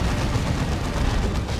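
Sustained heavy bolter gunfire from a Land Raider in the Dawn of War 2 video game, a dense, continuous rattle of shots and booms that fills the whole moment at steady loudness, with no voice.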